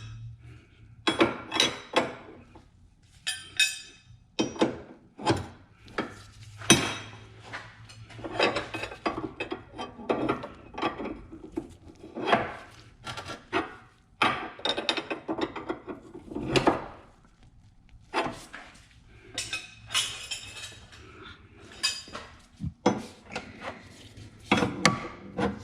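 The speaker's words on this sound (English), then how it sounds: "Now we can lock down the nuts on the track bar." Nuts on a Chevy Camaro tubular adjustable track bar are tightened with a wrench, giving a run of sharp metallic clicks and ratcheting bursts in uneven clusters, close and fairly loud, with no talking.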